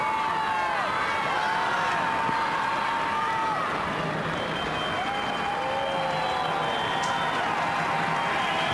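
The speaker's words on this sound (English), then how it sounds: "The crowd starting to get a little bit boisterous now, urging Canada on." Large stadium football crowd at a 1999 Canada versus Ecuador match in the Canada Cup, a steady roar of cheering and voices urging Canada on, with whistles rising above the continuous dense din throughout.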